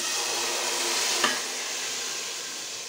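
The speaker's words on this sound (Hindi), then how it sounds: "तो तरी शामिल कर कर आपने बस हल्के हाथों से इसका चम्मच चलाना है" Beef nihari with its gravy stirred gently by a spoon in a pot, a steady soft bubbling hiss with one faint scrape of the spoon partway through.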